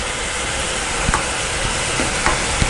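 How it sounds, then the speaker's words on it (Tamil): Paneer gravy for biryani bubbles at a boil, a dense steady hiss and sizzle with a few soft spoon taps as it is stirred, close and unbroken. "பன்னீர் வந்து கொதிச்சிட்ருக்கு. இதை நம்ம மிக்ஸ் பண்ணிக்கலாம்."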